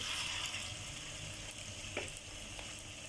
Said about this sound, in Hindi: अब हम पकौड़े जो हैं अपने फ्राई करना शुरू करते हैं।